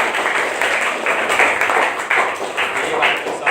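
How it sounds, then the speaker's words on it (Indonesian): Classroom applause for a student during a fiqh lesson on dawn prayer times, steady dense clapping from a group lasting several seconds. "tepuk tangan untuk Syabuddin"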